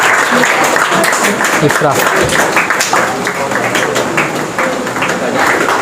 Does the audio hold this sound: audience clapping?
yes